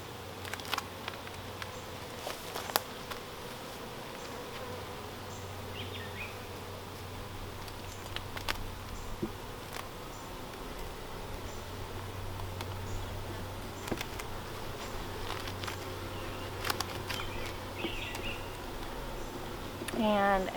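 Honeybees hum steadily through a new-hive inspection, a low continuous drone with scattered clicks and handling noises, moderately quiet throughout.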